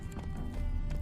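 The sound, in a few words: horse Roach hooves clip-clopping, from video game The Witcher 3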